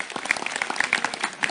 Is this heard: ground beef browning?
no